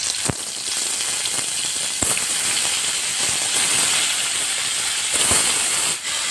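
Katla fish, rubbed with salt and turmeric, sizzles in hot oil in a wok, a steady close hiss broken by a few sharp spatters.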